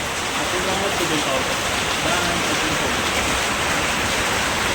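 Steady, heavy rain pours down on a Lakshmi Puja evening as a dense, unbroken hiss that fills the whole space. A voice may sound faintly beneath it.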